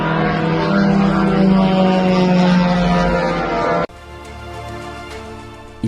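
An Iranian Shahed drone's piston engine and propeller make a loud, steady buzzing drone that cuts off sharply partway through, leaving a fainter buzzing hum.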